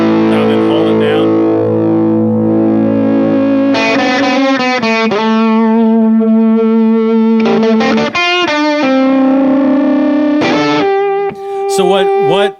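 Electric guitar played through a Keeley-modded Boss DF-2 Super Feedbacker and Distortion pedal, with the distortion set at noon and tone at 9 o'clock: sustained distorted notes bloom into held feedback tones, with short new notes played beneath them.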